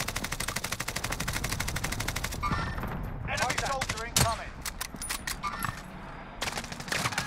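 Sniper and automatic gunfire in Call of Duty Warzone, rapid bursts of sharp shots in fast trains with a sharp crack partway through, with players talking over the shooting between bursts.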